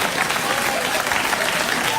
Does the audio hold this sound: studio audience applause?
yes